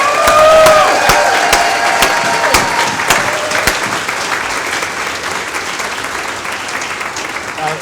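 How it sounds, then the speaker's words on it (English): Big, thunderous round of applause from an audience at an event honoring a college president and CEO, loud dense clapping with a few sharp claps and possible cheers, gradually settling over several seconds. "Let's just give just a big, thunderous round of applause."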